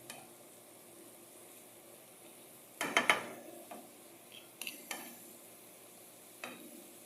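In a frying pan, salt is stirred into the food while it fries, giving a soft steady sizzle broken by a cluster of sharp spoon-on-pan scrapes and a few lighter clinks later on.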